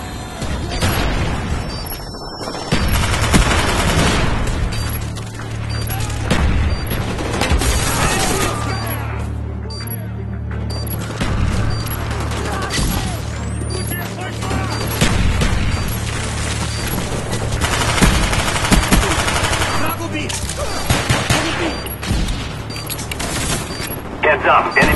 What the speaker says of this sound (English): Enemy mortars incoming.